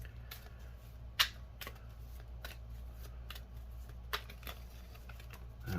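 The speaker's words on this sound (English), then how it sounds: "Let me get them right so I can shuffle them quicker" Tarot cards are shuffled by hand in a series of quick, crisp riffling bursts, close and fairly quiet, with a couple of sharper snaps between the bursts.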